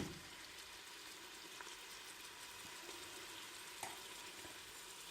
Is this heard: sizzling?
yes